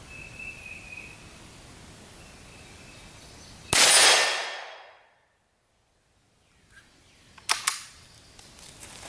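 A rifle firing a 17 grain Hornady VMAX round cracks once sharply and loudly at a steel target outdoors, the blast tailing off into quiet; a fainter clack and rustle of handling follows.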